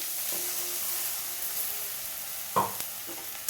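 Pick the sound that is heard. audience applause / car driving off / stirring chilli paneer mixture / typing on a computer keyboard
stirring chilli paneer mixture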